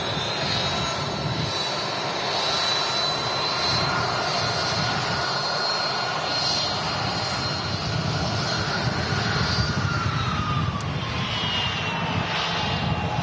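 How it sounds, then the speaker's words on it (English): A Singapore Airlines Airbus A350 taxis past the control tower at Manchester Airport, its jet engines producing a steady, loud roar with a high whine that holds throughout, with no talk. "the next heavy departure is just about to taxi past the Nats Tower here at Manchester, and that's the Singapore A350"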